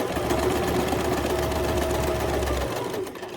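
A sewing machine stitches a curtain quilt with a steady, close mechanical chatter and hum that runs continuously, then stops abruptly near the end.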